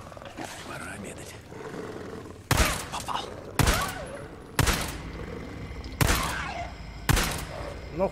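Gunfire in the open-world video game Days Gone, with five loud sharp shots spaced about a second apart over a steady game-ambience bed.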